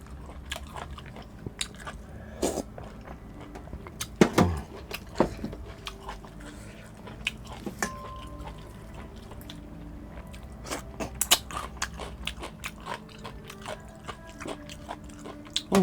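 Dry clean-eating food being chewed and bitten inside a parked car, with close crunchy bites and mastication scattered irregularly, a few sharper crunches standing out, over a quiet enclosed background.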